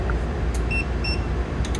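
Two short, high electronic beeps from a charging hub connected to an EcoFlow Delta Pro sound in quick succession over a steady low background hum.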